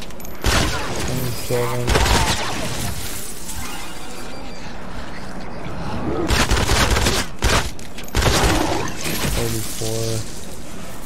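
Pistol shots ring out in Fortnite Save the World, coming in short bursts of sharp reports under steady game noise, with a player talking across much of the stretch.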